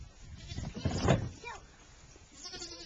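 A goat at a pumpkin patch gives a short, nasal bleat close by, with a family's chatter and bits of background noise around it.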